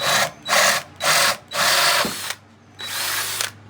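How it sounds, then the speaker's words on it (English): A power drill whirs in four short bursts, then runs in a longer steady stretch, close and loud, drilling a hole through a wooden board with another board underneath. "Put a board underneath, and then start drilling your hole."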